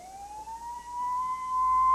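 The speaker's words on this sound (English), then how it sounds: "Ambulance sirens announce the casualties." An ambulance siren in Detroit wails in a single long rising tone, growing gradually louder as it approaches.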